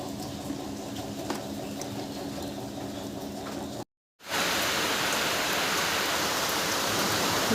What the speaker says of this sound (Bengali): বাইরে আমাদের বৃষ্টি ওয়েদার প্রচণ্ডই খারাপ অবস্থা দেখছো।